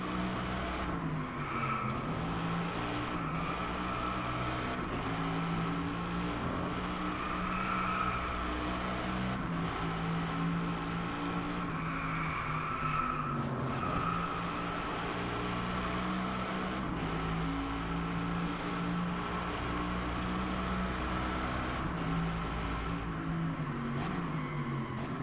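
Aston Martin Vantage V12 S and Mercedes SLS AMG Black Series race engines on a Japanese track in Driveclub, a steady loud drone with rising and falling revs and a few tire skids, running continuously throughout.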